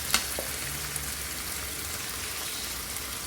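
Shrimp sizzling in a pan for a spicy Jamaican pepper shrimp dish, a steady dense crackle with a brief clatter at the start, close and even throughout with no talk.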